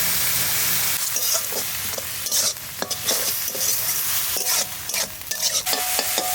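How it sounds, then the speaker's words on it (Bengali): Coriander leaves with green chilli and salt are stirred in a wok over a sizzling fry, a loud, close, continuous hiss broken by repeated scraping strokes and clinks of the spatula. "আমরা একটু কড়াইতে নেড়ে নেব"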